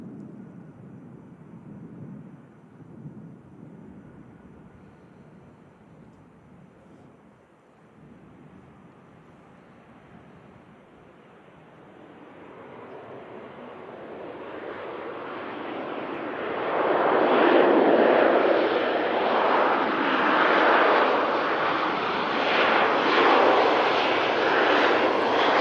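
An airplane at Manchester Airport, its engine roar swelling from a distant rumble into a loud, sustained jet noise as it passes close, with no voices.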